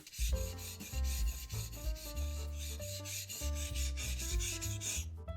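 Skiving knife blade stroked back and forth on a whetstone at a fixed angle, a close, steady series of rhythmic rubbing strokes over a bed of soft background music, no voices.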